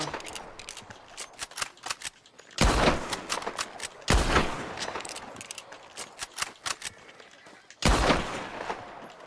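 Gunfire in Red Dead Redemption 2: several heavy, booming shots spaced a few seconds apart over a steady crackle of rapid sharp clicks and snaps, loud and close.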